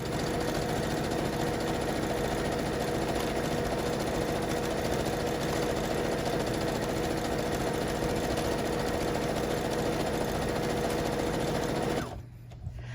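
A sewing machine runs at regular speed stitching a fabric tortilla warmer, a close, steady rapid chatter that continues unbroken before stopping abruptly near the end.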